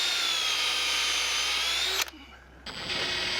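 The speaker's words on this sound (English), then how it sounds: "We are pre-drilling and then putting screws into the holes that we're drilling to secure the frames to the keel." Power drill pre-drilling screw holes in wooden boat frames fastened to the keel on a vintage wooden boat; a steady, loud whine runs for two seconds, cuts out briefly, then resumes close by.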